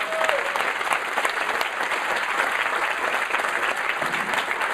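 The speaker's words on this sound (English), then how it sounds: "So, first, round of applause." A live audience at a venture capital talk gives a sustained round of applause, a dense, even wash of many hands clapping that holds steady throughout with a faint murmur underneath.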